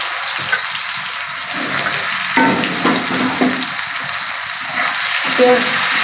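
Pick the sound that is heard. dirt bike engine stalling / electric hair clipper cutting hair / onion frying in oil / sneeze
onion frying in oil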